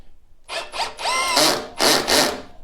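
A Hychika HDB18F brushless hammer drill drives a screw at clutch setting 15, giving several short whirring bursts that rise in pitch, then two longer loud runs close up, with no talking.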